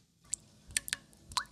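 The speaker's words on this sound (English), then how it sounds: "Where's that drip?" Small water drips from a minor plumbing leak, several faint close plinks over a quiet background.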